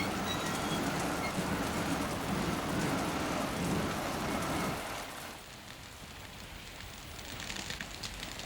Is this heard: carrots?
no